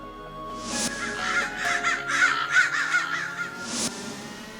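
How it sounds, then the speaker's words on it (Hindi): A black crow caws loudly and repeatedly at close range, its harsh calls coming in an uneven burst over a few seconds. "काला कौवा,"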